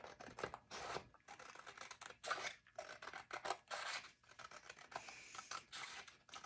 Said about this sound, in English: then just take your scissors and stay on the line